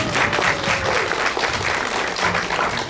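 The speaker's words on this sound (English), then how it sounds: "Audience clap." Audience at a talkback with local writers after a film screening claps steadily and densely for about three seconds, a full room of applause with a faint murmur of voices beneath.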